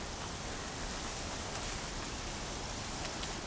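Heavy rain pours steadily in Horizon Zero Dawn, a dense, continuous hiss that stays loud and even throughout with no voices.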